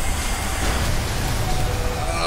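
Steady hiss of rain filling a Pokemon Sword battle, a dense broadband wash that stays level from start to finish, with a low rumble beneath it.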